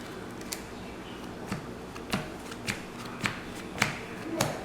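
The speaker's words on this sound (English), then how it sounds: "So let's do a little power shuffle." A Yu-Gi-Oh card deck is power shuffled in a quick series of sharp riffling snaps, roughly eight even bursts about half a second apart, close and crisp over a quiet room.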